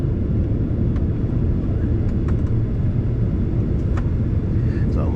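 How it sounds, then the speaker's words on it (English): A United Airlines jet taxiing before takeoff, heard from inside the cabin as a loud, constant engine rumble and whine with faint clicks and shifts over it, no talking. "it looks like it's our turn to take off now"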